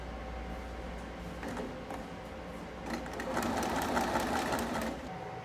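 A sewing machine runs continuously, stitching a stretch-stitch hem on a tight shirt, its soft rhythmic whirr and needle patter rising slightly midway, heard alone and fairly quiet.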